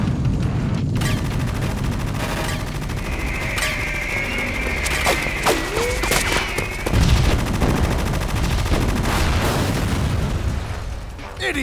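Rapid bursts of machine-gun fire and single gunshots from the Metal Gear Solid 2 video game crackle loudly across the scene, with a sharp whistling tone and booming impacts mixed in under occasional shouting voices.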